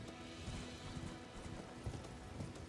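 Horse hooves clip-clopping in the video game Elden Ring, a quick run of close, rhythmic thuds kept up at a steady pace, with no speech over them.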